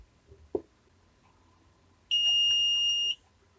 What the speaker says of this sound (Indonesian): Apabila buzzer pada timbangan digital berbunyi, maka otomatis pada sistem aplikasi akan berubah nilai beratnya.